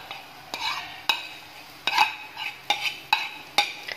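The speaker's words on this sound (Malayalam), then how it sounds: "തേങ്ങയും നമ്മളെ ക്യാരറ്റും കൂടി നന്നായിട്ട് മിക്സ് ചെയ്ത് കൊടുക്കണം" A utensil stirs grated coconut into cooked carrot in a pan for carrot toran, making close, regular scraping strokes about every half second with no voices.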